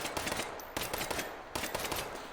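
Rapid gunfire at targets in the VR shooting game Hot Dogs Horseshoes & Hand Grenades, quick bursts of sharp shots in three clusters, fairly quiet and without talk.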